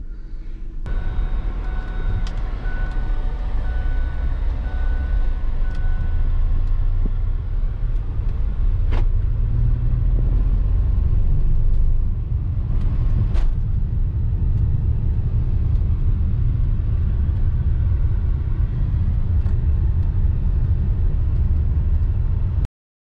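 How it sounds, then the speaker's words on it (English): A Lincoln MKX with a cylinder one misfire, heard from inside while driving: a steady low engine rumble and road drone runs loud and unbroken, with an occasional faint tick over it and no talking. "It still sounds like a misfire."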